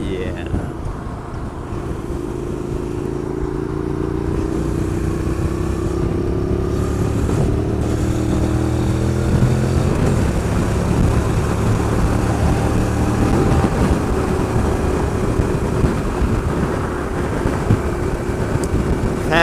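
A Honda NC700X motorcycle engine drones steadily with shifting revs under wind rumble, and a voice talks over it.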